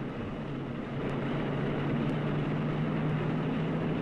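Steady, droning engine roar with a low hum running throughout, loud and continuous, from the four propeller engines of a Dominator bomber aircraft in flight.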